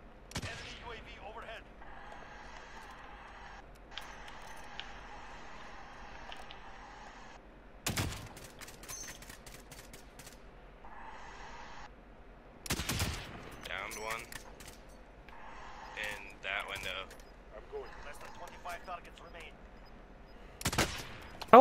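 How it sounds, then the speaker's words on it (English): Gunfire in the shooter video game Warzone, sporadic sharp shots and short bursts coming at intervals over a low game ambience, with a player talking between them. "Oh fuck, I'm getting shot at."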